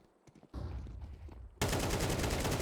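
AK rifle gunfire in a Counter-Strike esports match, with sparse early shots and then a loud, sustained burst of rapid fire.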